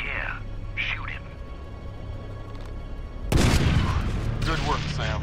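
A gunshot in the video game Splinter Cell Double Agent, Kinshasa mission: a sudden loud broadband blast strikes midway and rings into a noisy, crackling tail, after faint murmured voices over a steady low hum.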